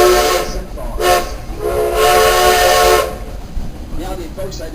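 A passenger train passes farmland while its horn blows in several long blasts over the steady rumble of the cars, close and loud.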